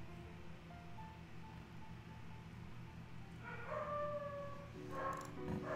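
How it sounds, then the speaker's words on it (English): A dog barks and yips a few times in the distance, the calls rising and wavering like a howl, over a steady low background hum. "Someone's barking. I hate that dog sometimes"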